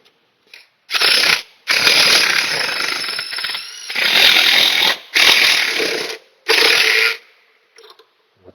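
A ratchet wrench tightens a bracket on a 2005 Honda during an oil leak repair: five loud, close bursts of rapid clicking separated by brief pauses, with no talk.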